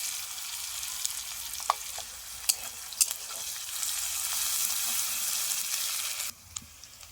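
Onion sizzles in hot oil in a pan, a steady moderate hiss with a few sharp crackles and stirring clicks, easing off near the end.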